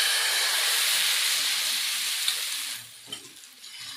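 Chakli pitha batter hits a hot, oiled frying pan with a loud, steady sizzle that fades sharply near the end, leaving a few soft clinks and quieter frying.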